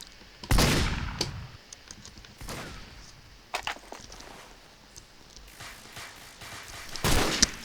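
Gunfire in a video game: a few sharp shots, one loud burst near the start, another around the middle and a final loud shot at the end, with quieter clicks and movement sounds between them.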